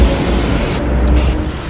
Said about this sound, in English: I'm just going to give it a good douse of water in a spray motion